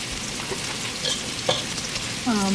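Vegetables sauteing with sausage in a pan for red beans and rice give a steady, close sizzle throughout, with a few brief stirring scrapes.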